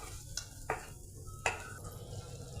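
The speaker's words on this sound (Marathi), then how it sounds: "मसाला आपल्याला तेल सुटेपर्यंत परतून घ्यायचा आहे." Masala sautéing in oil in a pan for paneer curry, with a low steady sizzle and three sharp spatula scrapes or taps spaced across the short stretch, close and moderately loud.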